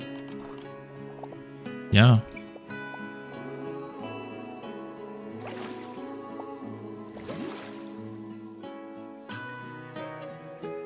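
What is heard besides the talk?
water filling a habitat in video game Planet Zoo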